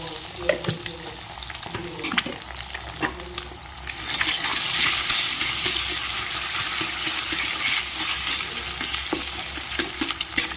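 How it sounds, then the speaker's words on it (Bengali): Two eggs frying in oil in a pan for a spicy chicken pasta, a steady close sizzle that swells louder midway, broken by sharp clinks and scraping stirs of a utensil against the pan. "এবার এতে ভেজে নিচ্ছি দুটো ডিম।"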